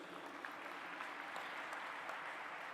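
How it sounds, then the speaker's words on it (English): Applause from the audience at a G20 interfaith summit for Dr. Lawrence after his address, a steady, dense wash of many hands clapping at a moderate distance, without voices over it. "Let's give a loud applause for Dr. Lawrence, sir."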